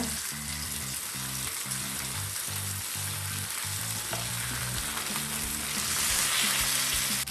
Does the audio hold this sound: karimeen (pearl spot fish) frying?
yes